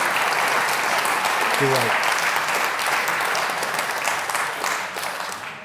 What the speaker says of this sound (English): So another round of applause there for Bob Harrison.